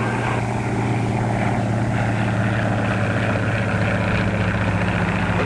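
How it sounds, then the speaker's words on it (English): A propeller plane flying overhead drones steadily and loudly, a continuous engine hum with no voices, in a 1938 film. "Look at that plane up there."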